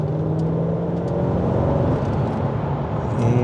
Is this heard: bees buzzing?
no